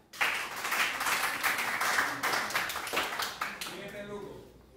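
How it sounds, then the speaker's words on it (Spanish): Students in a class give a brief round of applause, with steady clapping of moderate loudness lasting a few seconds before it fades, and a voice briefly heard at the close. "Un aplauso."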